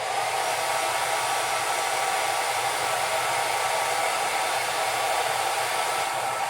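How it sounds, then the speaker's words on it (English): A hair dryer blows continuously at close range, melting crayons over a white pumpkin. It makes a loud, steady whirring roar with no pauses and no voices. "I've got my hair dryer pretty close to the crayons"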